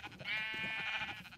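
Sheep bleating in Minecraft, a single drawn-out nasal wavering bleat lasting over a second, fairly faint over a light game background.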